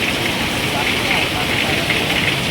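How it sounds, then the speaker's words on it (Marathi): Heavy rain pours steadily on a farm field embankment, a dense, continuous hiss that stays close and loud throughout with no pauses. "पाऊस खूप आहे सर"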